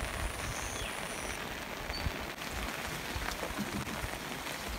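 Steady rain pours down in Lunglei, Mizoram, India, a dense hiss of water falling on surfaces with scattered louder drops, continuous and fairly close throughout.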